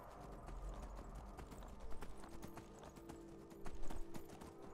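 Horse hooves clip-clop on a mountain climb in the video game Skyrim, a steady run of close hoof strikes over low ambient rumble and game music, with brief louder bursts near the end.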